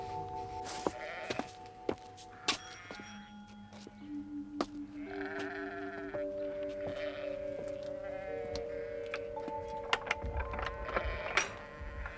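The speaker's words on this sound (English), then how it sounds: "Sorry to make such a racket, but it's the only way we could get through them sheep." Several sheep bleat repeatedly, their overlapping calls rising and falling over a steady background hum, with a few sharp knocks scattered throughout.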